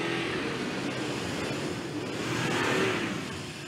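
A pickup truck speeding up across a golf course, its engine giving a steady, loud drone that builds slightly toward the end. The sound is close and continuous, and no one speaks.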